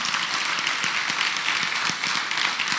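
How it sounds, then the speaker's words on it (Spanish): Church congregation applauding during a Spanish-language sermon: steady, dense clapping from many hands, close and even throughout the short stretch. "Un aplauso a la palabra."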